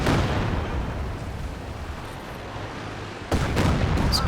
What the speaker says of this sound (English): This Katyusha barrage not quite as fruitful, but that last salvo of rockets result in a couple of kills